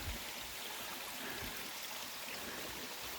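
Water from an old mine opening high on a hillside flows steadily, a constant broad rushing and gurgling heard close up, with no voices.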